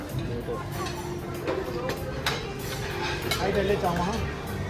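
Dishes and cutlery clink softly as a home lunch of rice, raita and salad is served in a family kitchen in Uttarakhand, the light taps and scrapes mixed under continuous conversation.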